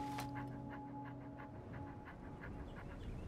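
Dog panting in the video game Skyrim, quick rhythmic breaths repeating steadily, faint and close over a low hum.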